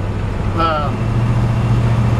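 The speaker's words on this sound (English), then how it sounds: "you can hear the engine run strong." A 1954 Ford F-100 pickup's engine runs with a steady, strong low drone while driving, continuous throughout, with a brief voice fragment heard early on.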